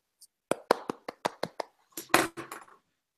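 A short burst of hand claps at a coaching demonstration, about a dozen sharp, distinct claps in an uneven rhythm, close and fairly quiet, with a brief cluster of overlapping claps near the end.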